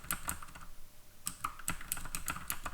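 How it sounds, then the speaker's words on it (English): Fingers typing on a computer keyboard, a close run of crisp, irregular clicks and taps with a short pause partway through, heard alone. "Continue speaking with my keyboard going, click, click, click, click, click."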